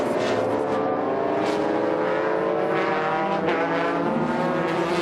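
Super GT race cars roar around the Motegi circuit in a 2006 race, with several engines wailing loudly and overlapping as they pass and shift gears.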